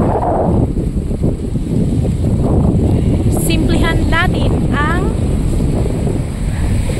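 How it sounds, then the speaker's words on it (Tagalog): Strong sea wind roars steadily into the microphone at a beach in Lobo, Batangas, in a constant buffeting rush, with a person speaking briefly partway through. "Ayan, lakas ang hangin."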